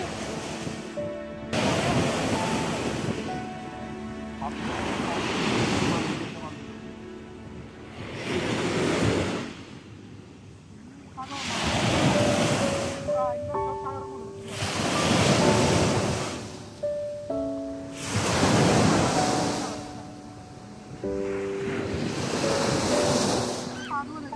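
Ocean surf rolls onto Mamzar Beach in Dubai, waves breaking in repeated surges every few seconds with gusty wind buffeting the microphone between them.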